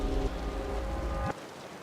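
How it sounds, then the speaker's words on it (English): Heavy rain falls in the video game Wuthering Waves, a steady dense hiss mixed with sustained game music tones, ending in a quick rising swoosh as the sound drops away. "The rain's getting heavier."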